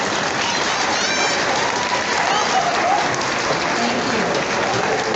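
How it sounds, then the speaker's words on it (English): Audience at an elementary school graduation applauding family members, a dense, steady clapping from a large crowd lasting throughout with no speech on top. "give a round of applause to your family members"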